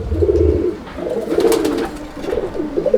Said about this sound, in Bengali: এটা হচ্ছে ওরই জোড়া, মানে এটা মাদি পায়রা।